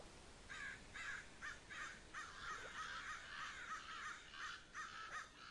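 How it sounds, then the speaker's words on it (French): Crows cawing in the RLcraft Minecraft modpack: a steady series of rasping caws repeats throughout, fairly close and alone over a dense ambient hiss. "Oh, il y a des corbeaux."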